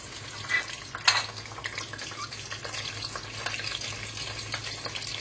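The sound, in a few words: frying sliced onions in oil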